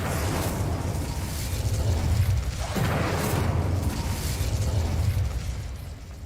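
The Incendio fire spell cast in Hogwarts Legacy sets off a loud, sustained burst of roaring flame that swells and rumbles for several seconds before easing slightly.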